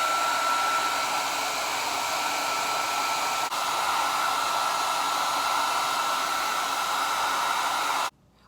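A hair dryer blows steadily on a lace front wig, a loud, constant whirring hum that runs on alone and then cuts off abruptly near the end.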